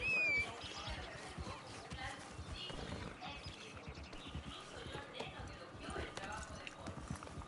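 A horse's hooves clip-clop in a steady walking rhythm on a road in Red Dead Redemption 2, faint and close, with a player talking quietly over the game audio.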